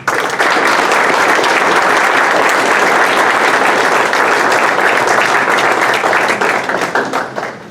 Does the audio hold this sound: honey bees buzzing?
no